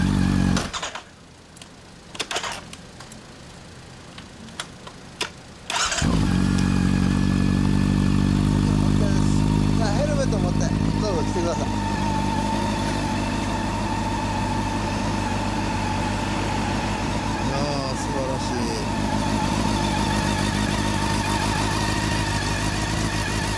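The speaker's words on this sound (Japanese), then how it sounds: "エンジン音聞かせてもらえますか" A 2010 Honda CB400 Super Four Hyper VTEC Revo (NC42) fitted with a Mugen muffler starts up and idles steadily, its engine close and loud for most of the clip after a few seconds of quieter handling noise.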